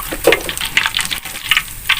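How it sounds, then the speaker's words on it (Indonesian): Battered milk tofu fries in hot oil, giving a loud, close, continuous sizzle with crackling pops scattered throughout. "Goreng sampai agak kecoklatan ya guys"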